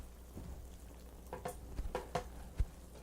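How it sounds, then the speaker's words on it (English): Pumpkin stew with tomato, carrot and peppers in chicken stock gets a gentle stir in a pot, a few soft scrapes and wet knocks over a faint simmer, quiet and close, with no talk. "we'll give a nice little gentle stir"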